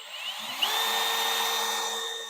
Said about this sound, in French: Puis on met ça dans une drill.